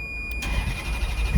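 A Toyota Supra engine cranks briefly and fires up, settling into a steady, close mid-pitched idle rumble with a short burst of noise as it catches.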